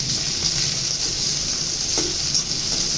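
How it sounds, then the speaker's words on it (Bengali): Onions and sliced green chillies frying in hot oil in a wok give off a steady, close, bright sizzle, with faint stirring noises now and then. "4 টেবিল চামচ তেল গরম করে সেখানে 4 টেবিল চামচ পেঁয়াজ ছেড়ে দিলাম আর 8-10টি কাঁচামরিচ ফালি"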